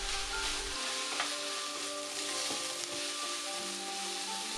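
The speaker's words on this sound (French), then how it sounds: "Bien mélanger." Potatoes, carrots, peas and curry powder sizzle in a hot pan while being stirred, giving a steady frying hiss with occasional scraping clicks, close and moderately loud with no talking.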